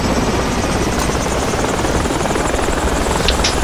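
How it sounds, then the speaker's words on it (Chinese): Helicopter in the video game Project Reality, a loud steady rotor drone with rapid blade thump running throughout, close and unbroken, with no talk. "我的直升机上面贴C4，可是没有贴到"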